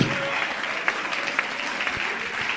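A congregation at a French-speaking church service applauds and cheers in praise of Jesus, a steady, dense wash of clapping with a few sharper claps standing out, fairly close and continuous throughout.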